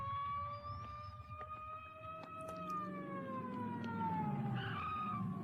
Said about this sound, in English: a couple of police cars pulling up and a red light going off